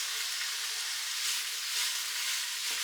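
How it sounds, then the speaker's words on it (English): Garlic and tomato paste stirred into ground beef frying in the bottom of an Instant Pot, a steady close hissing sizzle with a faint stir near the end and no voices. "we're going to stir the garlic and the tomato paste into the burger meat or the ground beef"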